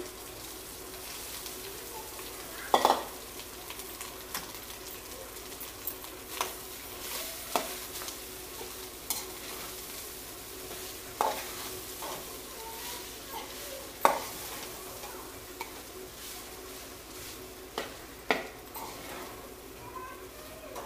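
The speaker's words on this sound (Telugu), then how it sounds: "దీంట్లో మనం ముందుగా వండి పక్కన పెట్టుకున్న రైస్ని వేసి కలిపెట్టుకోవాలి" Cooked rice is stirred into fried carrots in a pan, giving soft intermittent scraping and a faint low sizzle, with occasional sharper spoon knocks against the pan, quiet and close.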